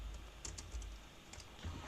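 Quick keystrokes tap on a computer keyboard in soft, uneven bursts, close and quiet, with no talking.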